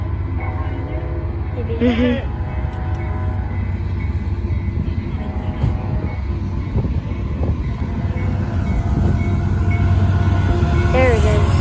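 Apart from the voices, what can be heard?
passing BNSF train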